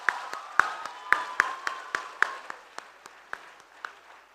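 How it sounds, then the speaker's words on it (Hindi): An audience at a public event welcoming a dignitary claps in distinct, rhythmic beats, loud at first and thinning out into scattered, fading claps. "तालियों से अभिनंदन कीजिए।"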